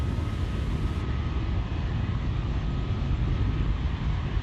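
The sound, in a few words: SpaceX Falcon 9 rocket in flight after launch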